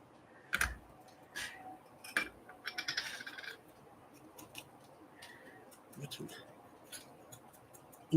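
Scissors cutting paper for a lapbook craft project, a few brief close snips and a short rapid run of cuts, with sparse clicks and quiet pauses between.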